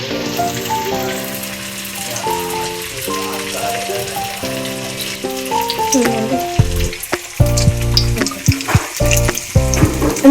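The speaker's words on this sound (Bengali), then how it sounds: "আমি আস্তে আস্তে লো ফ্লেমে ভাজবো দুটো।" Chow mein pakoras frying slowly in oil over a low flame, a steady close sizzle mixed with rattling, clanking utensil and pan knocks that grow busier toward the end.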